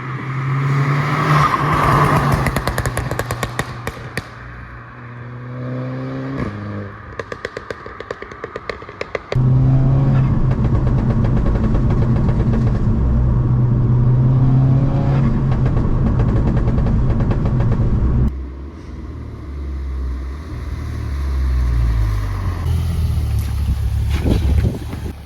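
A Volkswagen Golf 6 R engine idles and revs loudly, rising and falling through several throttle blips, close up and without speech.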